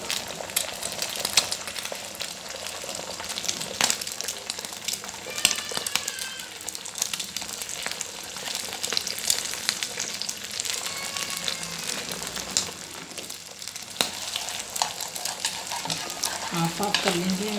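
A homemade keema burger patty sizzles and fries steadily in a pan, with a continuous crackling hiss and occasional stirring or scraping sounds close by, and no talking.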